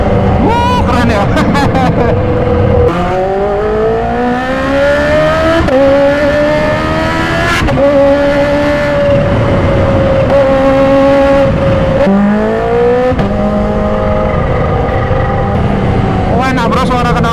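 A modified 2015 Kawasaki H2 supercharged motorcycle with an aftermarket exhaust revs loudly and close, its engine pitch rising and falling in several sweeping pulls, with a rider's voice talking over it.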